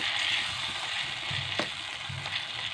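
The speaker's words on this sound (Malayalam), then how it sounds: "ഇതിലേക്ക് നമുക്ക് കുറച്ച് കറിവേപ്പിലിട്ട് കൊടുക്കാം ഇതും കൂടി ഫ്രൈ ചെയ്ത്" Curry leaves frying in hot oil give a steady, close sizzle with a faint stir or scrape midway, with no voices.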